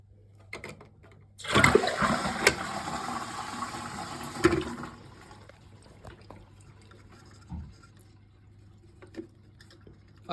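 A toilet cistern refilling through an adjustable ball valve: a loud rush of inflowing water bursts in after a quiet start, then eases to a softer trickle with a few small clunks and drips toward the end.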